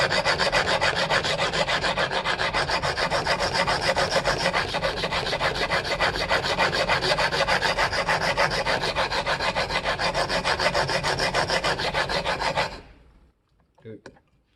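Hand plane blade for rough planing honed in a honing guide, a continuous close gritty rubbing and scraping of steel on stone in fast back-and-forth strokes that stops near the end, followed by a few faint clicks.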